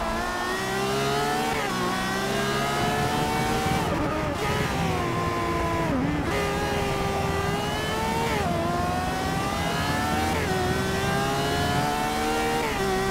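The Ferrari FXX K's V12 hybrid engine in Forza Motorsport 6 revs hard through the gears, a loud, steady, high-pitched whine that climbs and drops with each of several shifts.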